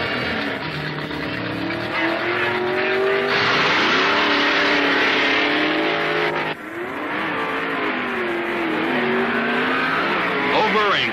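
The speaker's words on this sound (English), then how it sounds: "Don Grother of Oklahoma City, pits his automatic Hemi Barracuda against Southern Californian Wiley Cossey" Automatic 1969 Hemi Barracuda super stock drag cars at an NHRA race, loud roaring engines that rev and climb through rising gear changes, with sharp shifts, continuous and close throughout.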